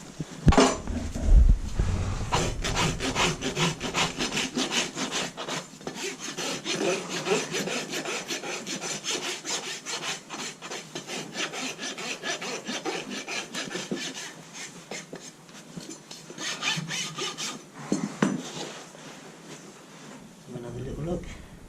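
A horse's hoof is trimmed before shoeing with rough, steady rasping strokes, close and continuous over about twenty seconds, with a person talking now and then.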